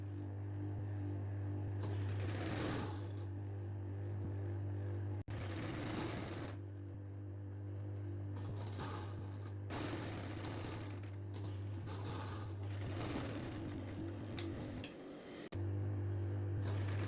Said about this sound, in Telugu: ఇప్పుడు దీనికి ఇలా పెట్టుకొని స్టిచ్ చేసుకోవాలి.